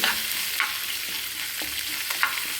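Ginger frying in a pan with steady sizzling and occasional stirring scrapes, close and continuous, with no voices.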